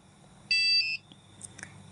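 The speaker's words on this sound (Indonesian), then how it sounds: "ketika perangkat ini digerakkan, maka buzzer akan bunyi. Nah, itu sebagai peringatan" A motion-detecting alarm device for a small shop sounds its buzzer once, a short, sharp electronic tone lasting about half a second, close and clear over a quiet room with faint background clicks.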